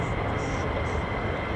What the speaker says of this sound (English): Get ready for more departures because there's quite a few F-15s at the top.